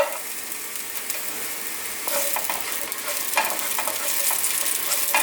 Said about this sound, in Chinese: 红黄椒略炒一下